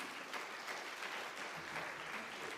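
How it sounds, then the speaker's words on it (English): Steady applause from an audience after an academic talk, a wash of many hands clapping at moderate volume with no voices standing out. "Maybe we can give one more round of applause for Professor Khan."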